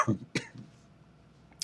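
A person at an Ohio hill country festival coughs in two short bursts close by, followed by a quiet stretch and a faint final cough at the end.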